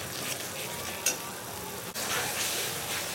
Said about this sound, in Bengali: এবার মশলাগুলোকে নাড়াচাড়া করে আমি একটু কষিয়ে নেব।